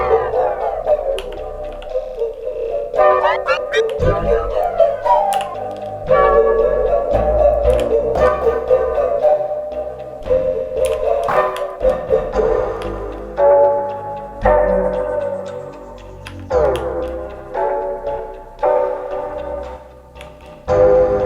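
A melodic loop in Ableton runs through the Looperator effect, its plucky, tick-like notes chopped, stuttered and rearranged into rhythmic bursts that play steadily and fairly loud with no talking.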